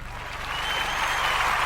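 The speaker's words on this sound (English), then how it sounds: "Clap it up for me." Audience applause, steady and fairly loud, swelling slightly over a couple of seconds with dense continuous clapping and no talk over it.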